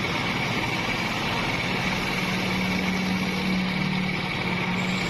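A motorcycle engine idling steadily after a carburetor mixture adjustment, a continuous even close-up hum with a faint high whine and no revving.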